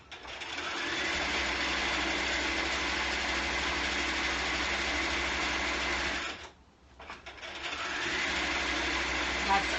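A sewing machine stitches a coat lining, a loud, fast, even mechanical whir that runs continuously, stops briefly for about half a second near the end, then starts up again.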